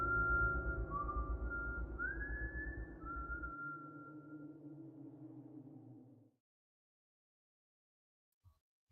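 A thin, wavering whistle glides slowly upward and back down over a low droning hum, then cuts off abruptly into near silence.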